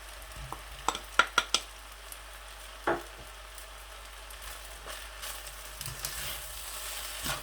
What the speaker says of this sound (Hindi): अच्छे तरीके से इनको चावलों को मैं मिक्स कर दूंगा एक बार।